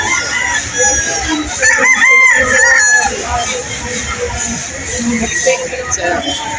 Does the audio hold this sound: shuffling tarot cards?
no